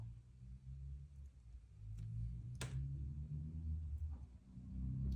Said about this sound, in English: What's that? I hear a car.